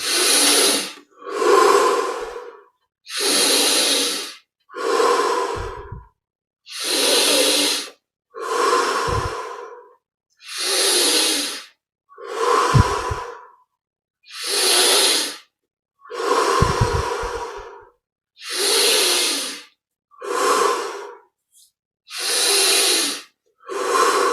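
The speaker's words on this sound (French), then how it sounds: "Essayons d'augmenter maintenant l'amplitude à chaque inspire." Deep, slow breaths during a yoga meditation exercise, about a dozen long airy inhales and exhales in a steady rhythm with short silent gaps, close and loud, no talking.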